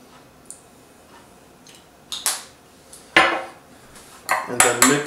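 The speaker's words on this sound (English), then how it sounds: "and then mix it, and take your veggies, mix it nicely." Hot sauce is mixed into veggie roll filling in a bowl, producing sharp utensil clinks and scrapes against the dish in irregular bursts, with quiet gaps between.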